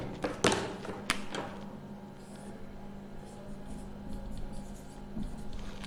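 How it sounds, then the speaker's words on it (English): A pencil scratches across paper during a technical drawing exercise, soft faint strokes with a couple of sharper taps early on, quiet room tone and no talking. "let me write it."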